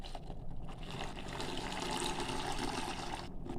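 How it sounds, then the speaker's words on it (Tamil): A steady stream of water pours and trickles into wheat rava dosa batter, fairly faint and continuous, with no talking over it. "தண்ணி சேர்த்துக்கலாம்."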